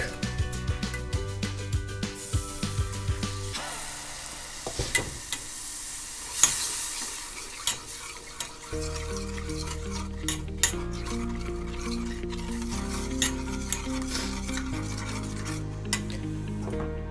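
White sauce with milk is stirred in a hot pan, with repeated scraping strokes and a soft sizzle running throughout over steady background music.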